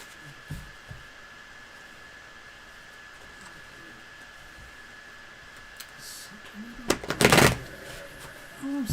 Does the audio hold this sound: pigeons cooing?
no